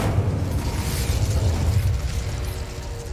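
A fire spell cast in Hogwarts Legacy bursts into a low, rumbling whoosh of flame that roars steadily for a few seconds, loud and close, with no voices.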